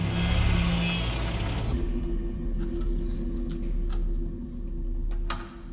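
A bunch of keys jangles and clinks close by, with a few sharp metallic taps over a low mechanical hum.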